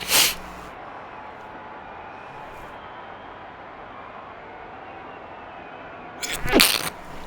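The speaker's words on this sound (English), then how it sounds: "The sneeze fit." One sharp sneeze opens, a long stretch of quiet background hum follows, then another burst of sneezing near the end.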